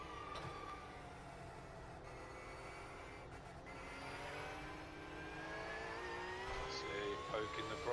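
Race car engine in iRacing at the Nürburgring 24H layout, a sustained, rising drone that climbs steadily in pitch as the car accelerates, heard at moderate level without other sounds.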